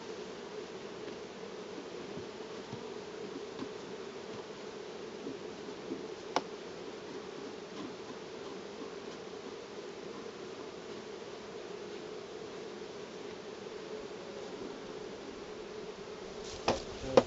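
Honeybees buzz inside a nucleus hive with its entrance blocked by a sponge, giving a steady, low, even hum close by and a couple of faint knocks.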